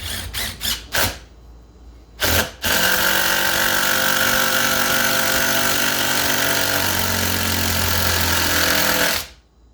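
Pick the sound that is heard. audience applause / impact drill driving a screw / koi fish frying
impact drill driving a screw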